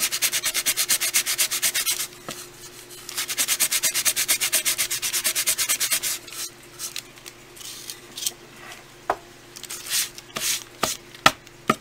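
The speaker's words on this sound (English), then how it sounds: "And I ran a piece of sandpaper." Sandpaper rubbed by hand along a wooden jewel box, two long bursts of steady back-and-forth scratchy strokes, followed by quieter sparse scrapes and taps, close up with no talking.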